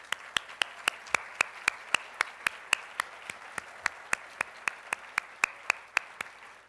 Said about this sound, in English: And let's give some applause.